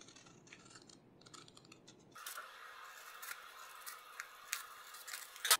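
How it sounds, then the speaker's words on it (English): Scissors cutting a paper foundation piecing pattern along a line, a soft crisp snipping and rasping at close range after a brief shuffle of handling, faint overall. "now I'll start cutting at this edge of the line"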